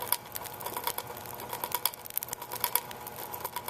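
A wobbly flywheel sprocket on a 2012 Schwinn IC Pro indoor cycling bike makes a rapid, irregular ticking and clicking rattle, close and moderately loud, with no talking.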